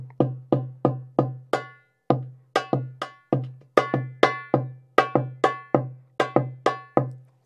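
Hand percussion struck with a soft, fluffy mallet in an Ayub rhythm, a steady syncopated run of short, punchy hits with a few louder accents, close and clear with no voices.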